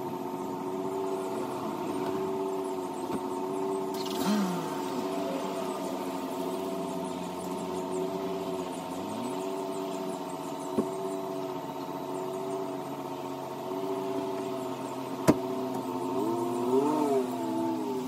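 A car engine idles with a steady mid-pitched hum and rises in a few brief revs, heard up close and continuously with no talking, plus a couple of sharp clicks near the end.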